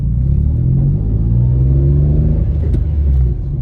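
A Citroen C1 small hatchback drives along with its engine droning loud and close, a low steady rumble that climbs slightly in pitch as it accelerates, then eases off near the end.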